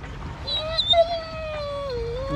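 A male dog whines and howls in a rising, wavering high-pitched woo-woo, close by at a lakeside camp, with a person talking softly alongside.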